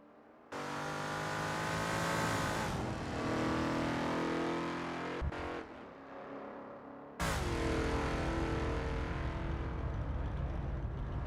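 A Lola T70 MkII Spyder race car on a practice out lap at Kyalami 1967 in a racing game, its engine droning loudly through long revving pulls, with a brief gearshift dip before surging again.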